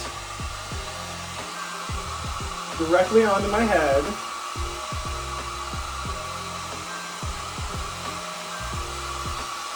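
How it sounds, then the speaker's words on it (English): A hair dryer blows steadily with a constant whirring hum throughout, while a person speaks briefly over it near the middle. "I'm gonna take my hair dryer, hair dry it"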